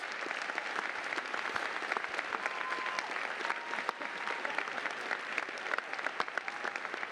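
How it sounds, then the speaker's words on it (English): A crowd at an Air Force summit keynote applauds the previous year's Outstanding Airmen of the Year, a dense, continuous wash of clapping heard from a distance that holds steady throughout. "give these folks a round of applause"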